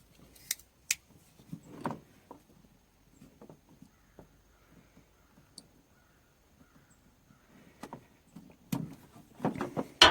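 Hose being cut during installation of an oil catch can on a car: a few sharp snipping and crunching clicks spread out over quiet, close and fairly soft, with small handling noises between.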